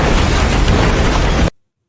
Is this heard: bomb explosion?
yes